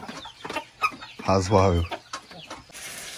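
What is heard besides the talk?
chickens clucking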